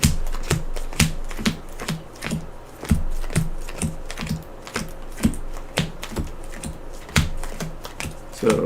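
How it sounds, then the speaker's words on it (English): A deck of playing cards from a Dark Souls card game is shuffled, giving a rapid run of crisp, evenly spaced clicks and slaps, close and fairly loud, with no voices. "We're going to get a good shuffle because I keep oddly stacking stuff"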